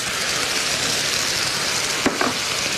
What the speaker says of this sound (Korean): 여기다가 이제 양념장 다 넣어주세요